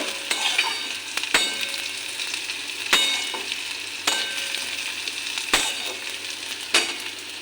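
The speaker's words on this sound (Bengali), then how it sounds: "এখন সবজিটা মিশিয়ে নেব" Mixed vegetables and fried onions are stirred in a pan for savoury semolina, giving a continuous frying sizzle broken by regular scraping strokes of a spatula about once every second or so.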